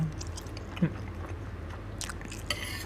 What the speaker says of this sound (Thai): แต่เราเคี้ยวไม่ถึงครับ เราเคี้ยวไม่ถึงไม่เกินสิบครั้งอะ